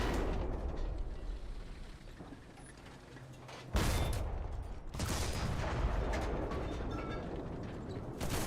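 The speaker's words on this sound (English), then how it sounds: "that's a grenade" A grenade explodes in a video game battle. A sudden loud blast sounds partway through, followed by a heavy, rumbling wash of combat noise that stays dense and loud.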